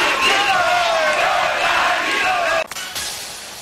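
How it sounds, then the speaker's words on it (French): A dense crowd of Lualabais gathered outside the provincial government building cheers and chants loudly for Tshisekedi's victory, a continuous roar of many voices close by that drops off abruptly near the end. "une foule de Lualabais s'était massée spontanément pour célébrer l'exploit de Tshisekedi"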